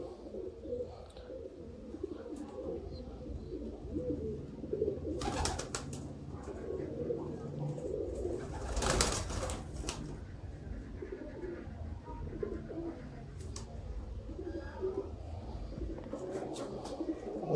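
Old Sialkoti rooftop pigeons coo softly and repeatedly in a close, quiet setting, with occasional rustles and wing flutters.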